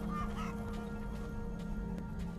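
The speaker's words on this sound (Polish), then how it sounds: "Co mam te ptaki wybić?" Birds cluck and squawk faintly in the VR video game Asgard's Wrath 2 on Meta Quest 3, scattered short calls over a steady droning game ambience.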